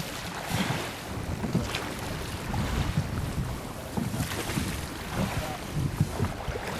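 Steady wind blowing against a rowing boat during a Viking boat race on open water, a continuous rushing roar of gusts buffeting the microphone, with faint water noise and no clear talk.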